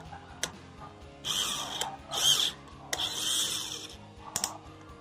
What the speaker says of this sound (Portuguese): É como se fosse um barulhinho de catraca, mostrando que ah, precisa de um torque a mais ou está tranquilo.